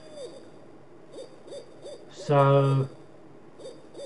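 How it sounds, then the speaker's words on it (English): An owl hooting softly and repeatedly at a steady rhythm in a retro text adventure game, with a brief louder burst of another sound partway through and a single spoken word. "This noise is making me go to sleep. Sounds like an owl or cuckoo,"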